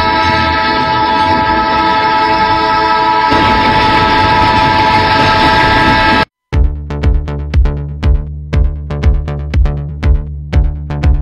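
An approaching train blares a loud, sustained horn for several seconds. After a brief gap, close rhythmic clickety-clack of wheels over rail joints follows in quick, regular beats.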